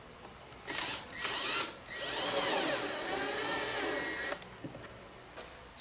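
A homemade vacuum cleaner built from a container and sealed with silicone, running in short bursts of mechanical whirring that rise and fall in pitch, mixed with clicks and handling noise.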